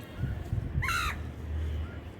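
A single crow gives a short, loud caw over a low background rumble with faint knocks.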